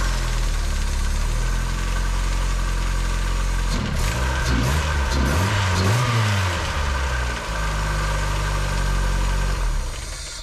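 A Mazda car engine idles roughly, then swells through a couple of wavering revs as the gas is feathered before it settles back to idle; the sound is close and loud, with no talking.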